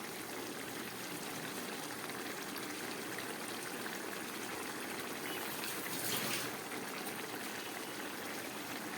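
Curry with kabuli chickpeas and banana flower bubbles at a full boil in a pot, a dense, constant seething hiss that stays steady and fairly loud from start to finish, with no voices.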